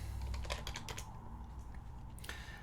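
Steady clicking of keys on a computer keyboard, fairly close, with a quick burst of rapid presses followed by a few scattered taps.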